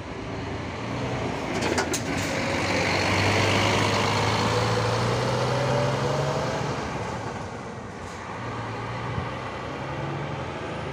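A Comil interstate coach pulls out of a long-distance bus station in Brasília, heading for Esperantina via Maranhão, its engine a steady low drone with a slow rising tone, loud and close throughout with no talk.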